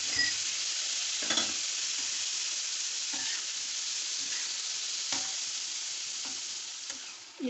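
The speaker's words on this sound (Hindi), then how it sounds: "अब जो दही मैंने फेंटा है इसको शामिल करेंगे।" Whisked yogurt going into sizzling liver on a hot tawa for dhaba-style kaleji masala, a steady loud frying hiss with occasional stirring scrapes and clinks throughout.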